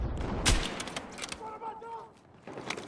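Mini Scout sniper rifle gunfire in a video game, heard as a loud shot with a booming crack early on, followed by quieter clicks and faint tonal game sounds, with no talk.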